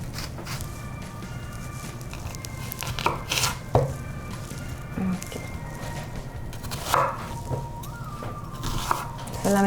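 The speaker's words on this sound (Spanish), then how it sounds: "voy a cortar un poco la cebolla" An onion being chopped with a knife in a home kitchen, a faint scattering of irregular taps and crunches against a cutting board over low background noise.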